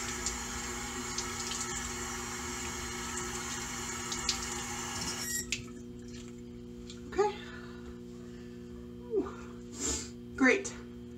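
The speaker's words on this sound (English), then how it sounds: "Rinsing." A bathroom tap pours steadily for several seconds while a face is rinsed, then shuts off, followed by a few splashes and soft sniffs close by.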